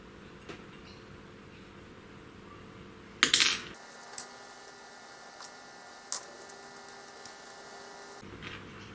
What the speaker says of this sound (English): I'll just pop these screws in.